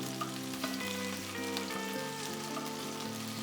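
Herby chicken meatballs frying in a pan, a dense, steady sizzle and crackle of hot oil with small pops, close and continuous throughout, with a faint hum underneath.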